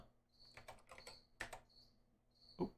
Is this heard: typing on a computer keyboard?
yes